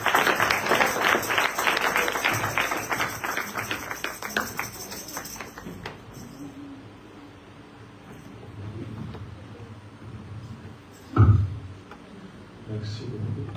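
A church congregation applauds at a weekly service, dense steady clapping that fades out over several seconds, leaving a quieter room with murmurs and a single sharp knock.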